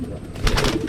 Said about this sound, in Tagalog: Ako sanay ako mga kalapatids pagka ganitong nagsusubo.